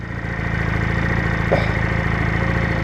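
A Junak M11 Cafe motorcycle engine runs during a ride, giving a steady, even mid-pitched drone with strong harmonic hum that stays constant throughout, close and loud with no talk.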